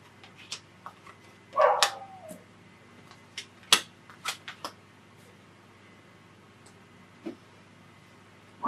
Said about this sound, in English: Maybe somebody's dog is loose out there, huh?